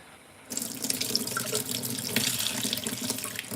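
Tap water splashes into a sink while mushrooms are drained, starting abruptly and running as a steady, close hiss with no voices.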